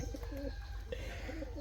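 Several pigeons kept as pets coo softly and repeatedly nearby, their throaty warbles overlapping above a constant low hum.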